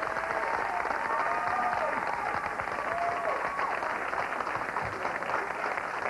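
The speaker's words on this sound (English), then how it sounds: "Give him a round of applause." A studio audience at a 1995 talk show applauds a guest named James, a continuous wash of clapping and crowd noise lasting throughout, with a faint voice drifting in underneath.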